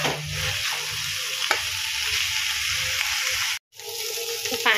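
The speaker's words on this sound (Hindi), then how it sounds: "पलटे की मदद से हल्का हल्का सा मैश कर देना है।" Cooked chokha is mashed and stirred with a spatula in a hot pan, a close, continuous sizzle with scraping strokes that cuts off briefly before resuming.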